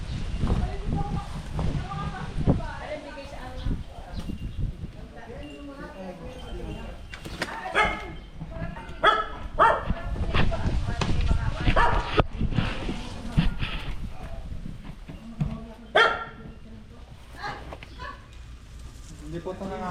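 A dog barks intermittently outdoors during a cobra search in the Philippines, the yips and barks mixed with ongoing talk and rustling nearby.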